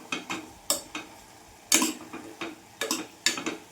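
A spatula scrapes and taps against a pan as capsicum is sautéed for kadapa gravy, giving irregular sharp clinks and scrapes spaced a fraction of a second apart over a faint sizzle.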